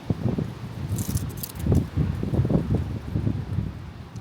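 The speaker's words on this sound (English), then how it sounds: "I mean, do you hear this wind? It's insane." Strong wind in Michigan buffets the microphone in rough, continuous gusts, with rustling and a few brief high clinks near the start.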